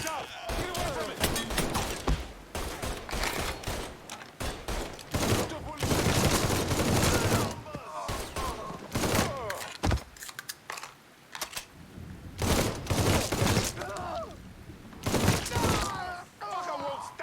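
Video game gunfire set in the American South of 1968 crackles in rapid bursts and fusillades, loud and close, interspersed with keyboard clatter and people shouting.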